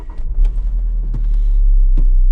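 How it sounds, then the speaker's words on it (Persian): A car with a weak, worn clutch disc is started and settles into a steady low idle rumble, with a couple of brief clunks over the continuous engine throb. "ماشین رو روشن میکنیم"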